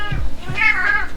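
A pet cat meows insistently for attention at close range, with a few short meows in a row, including a longer, wavering call late in the clip, all clear and unaccompanied by talk.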